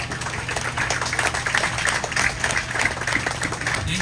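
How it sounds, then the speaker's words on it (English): An audience at an expo day claps together, a broad even patter of hands that holds steady for several seconds and stands clear, with no one speaking over it. "Can we have everyone give them a big round of applause?"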